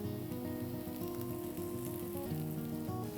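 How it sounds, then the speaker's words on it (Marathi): Aloo tikki patties crisping in a pan after a little oil is added hiss in a dense, continuous sizzle with fine crackling, close and fairly loud, with no voices. "आता आपण ह्याच्यात थोडंसं तेल घालूया"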